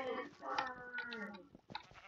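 Sheep in a farming simulator game bleating in wavering, nasal calls, a couple of overlapping bleats close up, fairly faint, with brief clicks and game noise around them.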